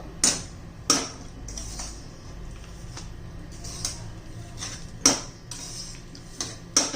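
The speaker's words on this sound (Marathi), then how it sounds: "द्राक्ष रवा हे सर्व आपण एकत्र मिक्स करून घेणार आहोत" A spoon stirs semolina and raisins together in a pan off the heat for a karanji filling, making sparse, quiet metallic clinks and taps against the pan every second or so over a soft background.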